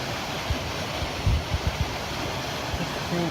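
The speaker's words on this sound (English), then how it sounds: "Stream, waterfall." Stream and waterfall along a rocky, muddy hiking trail, a steady broadband rush of running water filling the scene, with a few low thumps from nearby movement.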